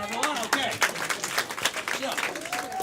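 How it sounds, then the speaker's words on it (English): An audience at a live game-show event claps in scattered, uneven bursts, with voices talking over the applause throughout. "Clap for them, everyone."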